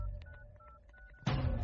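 A telephone number being dialed, a quick series of short beeping tones over a low hum, followed by a louder rush of noise as the call connects.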